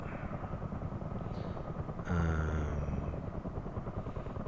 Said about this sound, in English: let's just put the engines on stop